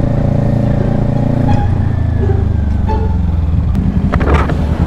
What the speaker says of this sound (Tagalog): Kahit saan ka tumingin may nakatambay na grupo na nakamotor.